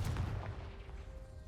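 The Confringo fire spell from Hogwarts Legacy bursts with a single deep, muffled boom that rolls off into a low rumble, heard briefly and alone.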